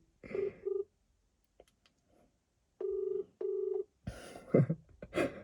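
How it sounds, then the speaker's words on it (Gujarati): A telephone keypad dialed for a prank call: two bursts of two beeps, a pause, then two longer tone pairs at close range, followed by clattering handling noise. "ચાલો આપણે પાછા ફોન કરી અને વાત કરી"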